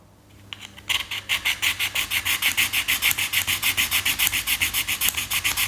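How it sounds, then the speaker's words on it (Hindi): A car key blade being rubbed with sandpaper while converting a normal key into a flip key: a rapid, regular series of close, scratchy back-and-forth strokes with a slight squeal, about four or five strokes per second after a brief start. "मैं हल्का सा रेग मार से लेकर इसको घिस देता हूँ"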